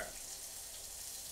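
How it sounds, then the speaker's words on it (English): Meat slices sizzle in a hot pan on high heat, a steady, quiet hiss of frying that holds evenly for a moment with no talking over it. "I can hear it sizzling because I turned that heat up."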